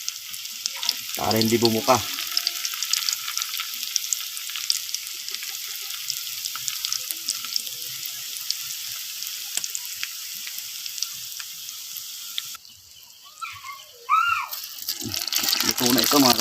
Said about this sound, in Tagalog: Umpisa na natin prituhin itong ating lumpiang ubod ng nyog.